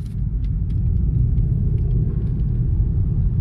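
Interior of a 2023 Hyundai Grand i10 Nios Sportz 1.2L AMT pulling away: steady low engine and road rumble at moderate loudness, with no speech.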